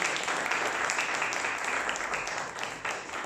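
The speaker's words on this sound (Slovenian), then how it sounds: "Dajmo jim en aplavz" Applause for kindergarten children from Vrhovci at a fire brigade association donation event, steady dense clapping from an audience throughout, fading a little toward the end.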